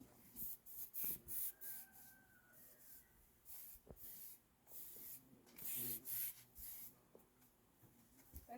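A spray bottle hisses in short, sharp bursts onto a young horse, about a dozen quick spritzes in irregular clusters, close and clear against a quiet background with faint movement.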